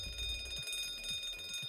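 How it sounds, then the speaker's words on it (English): A fire alarm rings in a school setting, a loud repeating electronic tone with steady high pitches and short rhythmic pulses, heard alone with no talking. "That's the fire alarm."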